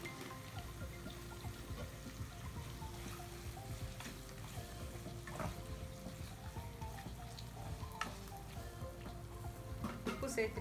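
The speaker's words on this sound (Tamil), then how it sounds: "இது தக்காளியும் நல்லா வதங்கட்டும்" Tomatoes sautéing in a pan for egg kola curry give off a steady, close sizzle and crackle that runs unbroken throughout, with a few soft clinks near the end.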